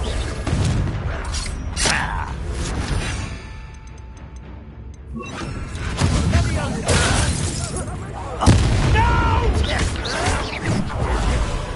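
Confringo fire spell blast in Hogwarts Legacy, with booming impacts and shattering crashes amid combat effects and game voices.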